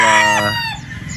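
A gamecock broodstag crows once, close and loud, a single short cock-a-doodle-doo that trails off into quieter background noise.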